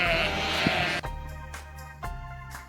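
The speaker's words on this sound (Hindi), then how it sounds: "ये देखो बच्चों, शिप। शिप को बच्चों हिंदी में भेड़ कहते हैं।" A sheep bleats loudly up close several times, each call a wavering, nasal cry separated by brief pauses, with no voices present.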